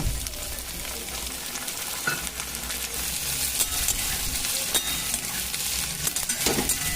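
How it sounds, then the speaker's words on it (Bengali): Slit green chillies, whole dried chillies and chopped onion fry in hot oil with a dense, steady sizzle, while a spoon scrapes and stirs now and then, close and without talk. "এবার আমি সমস্ত জিনিসগুলোকে খুব ভালো করে ভেজে নেব"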